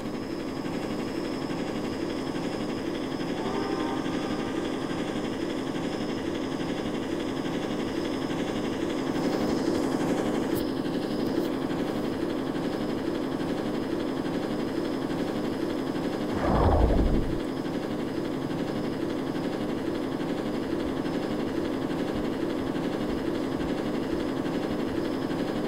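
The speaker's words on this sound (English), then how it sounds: "The train!" In the video game Jailbreak, a steady low rumble of a passing train fills the scene, with a falling whine near the middle and a constant mechanical drone.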